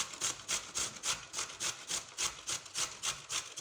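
Carrots are grated by hand against a grater in quick, even strokes, about four scrapes a second, each a bright rasping swish, close and clear with no talking.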